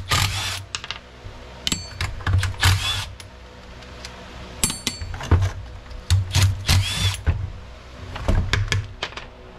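Screws being removed from the recoil starter of a Stihl HT 131 pole pruner: close, intermittent clicks, ratcheting and plastic knocks in short clusters over a quiet background.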